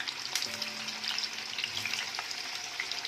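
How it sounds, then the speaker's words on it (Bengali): Potatoes frying in mustard oil in a pan for vegetable khichuri give a steady, close sizzle and crackle with a faint tonal hum underneath, running evenly throughout. "খিচুড়ির জন্য আলুগুলো আগে ভেজে নিচ্ছি।"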